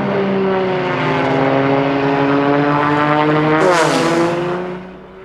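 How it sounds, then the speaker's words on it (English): Racing propeller planes of the Red Bull Air Race World Championship roar over San Diego Bay, a loud continuous engine drone with a sharp pitch shift as one passes close by, then fading away. "Extreme Pilots will be back on San Diego Bay, putting on quite a show for the Red Bull Air Race World Championship."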